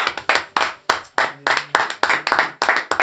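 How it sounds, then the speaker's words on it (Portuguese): A church small-group congregation applauding in bursts of sharp, close hand claps, several people clapping unevenly with brief pauses between loud flurries, no talk over it. "Você pode dar um novo aplauso ao Senhor Jesus?"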